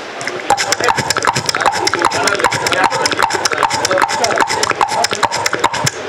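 A mimicry artist imitates a horse's hooves on a road with his mouth, a steady, rapid clip-clop of close, loud clicks kept up without pause.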